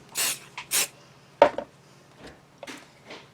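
Two short bursts of aerosol adhesive spray hiss up close, followed by a few soft knocks and rustles from handling.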